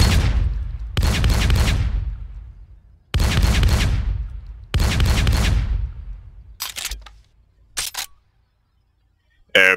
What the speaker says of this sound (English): This badass shotgun.